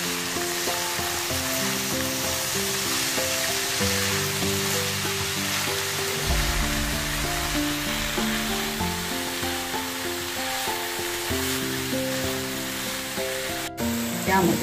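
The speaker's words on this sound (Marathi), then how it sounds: "मेथी घालून व्यवस्थितरित्या परतून घेते।" Fenugreek leaves being sautéed in a pan give a steady, continuous sizzle under background music, with no pauses.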